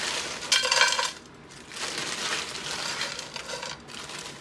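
Peppers and onions tumbling into a pan for baked ziti, a clattering burst of vegetable pieces hitting metal followed by softer rustling and light clinks as they settle, close and moderately loud.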